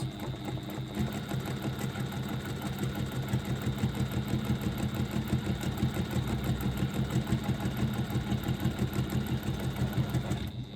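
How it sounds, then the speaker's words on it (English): A Juki TL98P sewing machine runs steadily, its needle chattering in a fast, even rhythm, close and continuous with no talking. "Now I'm sewing on a Juki TL98P sewing machine."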